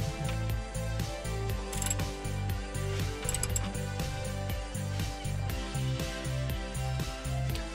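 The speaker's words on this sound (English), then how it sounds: "And tighten it down with our 17mm socket wrench." A 17mm socket wrench ratchets steadily as it tightens an oil drain plug into the oil pan of a 2015-2019 Hyundai Sonata, a close, continuous run of rapid clicks with no talking.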